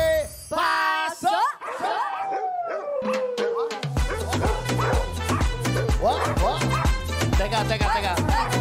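A female dog barks and yips in short excited bursts with some howl-like whimpers, close and loud, at a lively Filipino variety show, while people talk and music with a steady beat plays underneath.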